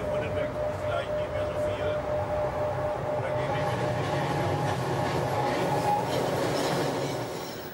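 A Class 103 electric train runs through the Rhine valley toward the Loreley tunnel, giving a loud, steady rolling rumble with wheel noise and a faint tonal whine that drops off slightly at the end.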